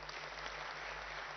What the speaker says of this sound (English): I think it deserves a bigger round of applause.